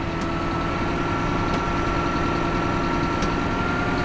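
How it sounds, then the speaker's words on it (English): Engine of hay-wrapping machinery running at a steady, even idle, a continuous low droning hum with no clear rise in pitch. "So I gotta bump up the throttle"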